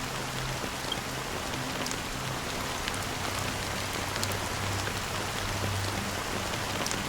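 Steady rain falls on surfaces in a Honkai Star Rail cutscene, a dense, even patter that stays constant and fills the whole stretch with no voices.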